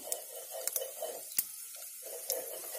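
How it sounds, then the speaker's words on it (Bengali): A mixed vegetable pickle with oil bubbles and sizzles in a pan, soft and close, broken by several sharp metallic clicks and knocks from utensils against the pan. "এটা ফুটছে, দেখো"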